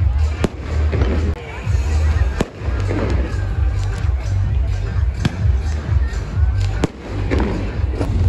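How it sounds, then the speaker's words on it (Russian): New Year fireworks launched from two ships offshore at a Hua Hin beach in Thailand. Repeated thumping bursts and sharp cracks ring out at irregular intervals over a continuous low rumble and crowd noise. "Вот там вот пришли два корабля, которые будут сейчас запускать салюты."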